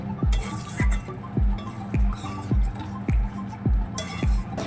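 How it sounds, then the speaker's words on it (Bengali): A spoon stirs and sautés cauliflower roast with raisins in a pan, knocking against the metal in a regular rhythm of about two strokes a second, close and clear with a soft sizzle beneath. "এবার আবার কিছুক্ষণ কষিয়ে নেব।"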